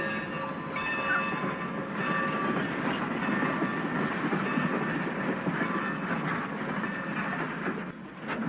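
A train rumbles steadily along the rails with a continuous, fairly loud mechanical roar and faint clatter from the cars, and no voices are heard.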